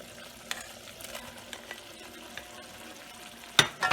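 Fried okra is tipped into masala in a pan and stirred, with soft scattered scrapes and a quiet sizzle, ending in a sharp clatter of the spoon against the pan.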